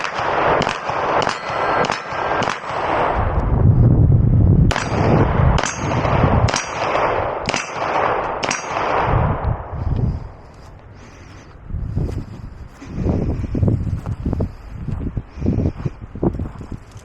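Glock pistol fired left-handed outdoors, a steady string of sharp shots with metallic clangs ringing after each, then quieter scattered shots and rustling later on, with wind in the background.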